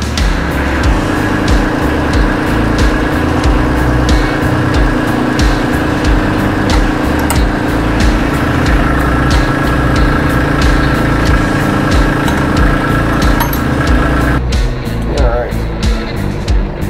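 A Kubota tractor's diesel engine runs steadily and loud for the whole stretch, holding a constant drone while the front loader lifts the tractor, with a change in tone near the end as the hydraulics shift.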